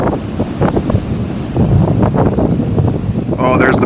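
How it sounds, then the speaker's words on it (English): Strong storm wind gusting into an open microphone during a thunderstorm chase in eastern Montana, a loud, continuous roar with buffeting bursts, with a voice speaking briefly over it. "That wind's picking up."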